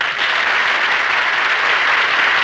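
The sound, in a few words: studio audience applause on a radio show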